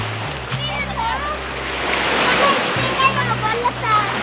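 Sea surf washes and splashes close by on a beach at Madalag, Pandanan, Zamboanga del Norte, a steady rushing roar that swells slightly, with voices of people talking over it.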